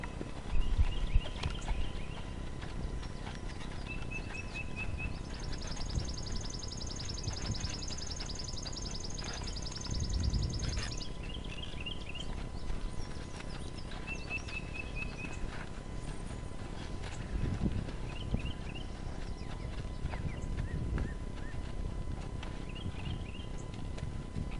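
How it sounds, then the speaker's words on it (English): Hooves of a horse cantering under a rider, ridden with just a string around its neck, thud in a steady rolling rhythm through outdoor background noise, with birds chirping intermittently overhead and no talking. "This was definitely the first time I ever asked him to canter with a string on his neck."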